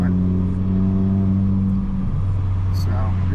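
A VW Golf drives a winding mountain road on the Tail of the Dragon, its engine holding a steady hum that shifts pitch partway through. Someone talks over the engine noise.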